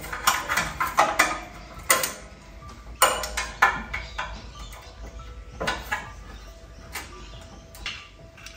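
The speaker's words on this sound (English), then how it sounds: "Then pull the manifold forward." Metal clanks, ticks and ratcheting knocks from removing the manifold off a Nissan X-Trail engine during cylinder head gasket work, arriving as irregular close-up bursts with quiet gaps between them.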